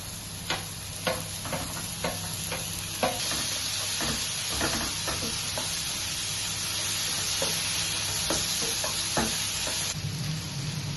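Tomato goes into onions frying in a pan and sizzles steadily while a spoon stirs, tapping and scraping the pan in irregular strokes over the constant hiss, close and fairly quiet.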